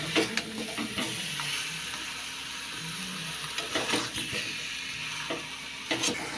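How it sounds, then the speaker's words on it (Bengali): Mutton and potatoes stir-fried in a pan over a gas flame, giving a steady sizzle with repeated scraping and stirring strokes, close and moderately loud, with no talk. "আলুটা দিয়ে আরও এটা পাঁচ থেকে সাত মিনিট কষানো হবে"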